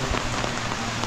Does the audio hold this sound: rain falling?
yes